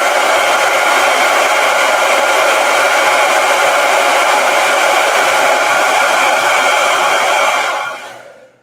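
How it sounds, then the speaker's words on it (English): A hair dryer blasts continuously at close range while drying a freshly inked painting, a loud steady whooshing hum with no talk, cutting off and fading out in the final second. "Now I'm going to hit this with a blow dryer."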